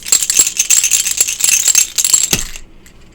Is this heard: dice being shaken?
yes